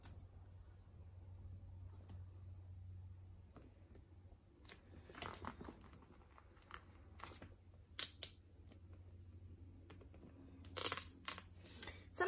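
Scissors cutting through a paper box: scattered crisp snips and papery rustles at close range, quiet and irregular, over a low steady background hum.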